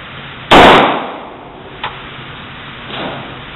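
Handgun fired at a shooting range, one loud sharp report near the microphone with a fading tail, then a small pop and a fainter distant shot.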